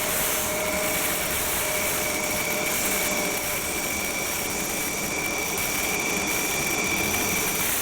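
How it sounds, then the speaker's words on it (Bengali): A Rafale fighter jet's engine roars on the ground at Ambala air base before takeoff: a loud, steady, unbroken rush with a thin high whine running through it. "এবার আকাশের উদ্দেশ্যে পাড়ি দেবে রাফাল"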